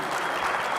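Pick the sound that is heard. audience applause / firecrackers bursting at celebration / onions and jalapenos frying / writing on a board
audience applause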